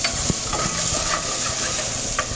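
Guanciale frying in a pan gives a steady, close hiss of sizzling fat with occasional small pops and stirring clicks, continuous throughout without any talk.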